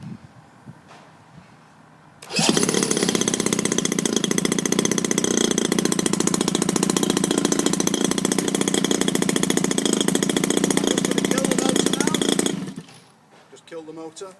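RC petrol engine fired by an autostart system, bursting into a loud, buzzing, high-revving run for about ten seconds before cutting off, with quieter sounds before and after.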